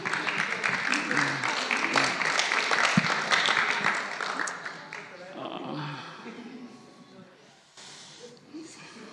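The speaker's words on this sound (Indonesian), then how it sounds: "Tepuk tangan untuk Briana." A youth church congregation claps and cheers for a young woman, loud and dense at first, then thinning and fading toward the end with voices mixed in.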